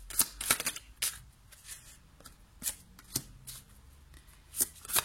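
Tarot cards are shuffled and drawn by hand in a quiet room, giving quick crisp riffles and slaps in a cluster at the start, then single sharp card snaps spaced out at irregular intervals.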